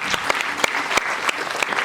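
Hall applause at an annual school awards ceremony in Srinagar rolls on as continuous clapping from a crowd, with sharp louder claps standing out in the mix.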